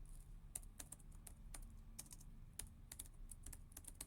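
Quiet, close typing on a computer keyboard: a quick, uneven run of light key clicks with brief pauses, faint against a soft low hum.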